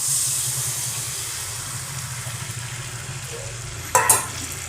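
Amla thokku sizzles and fries steadily in a pan as tamarind water is stirred in, a continuous hiss with a brief louder splash and clatter near the end.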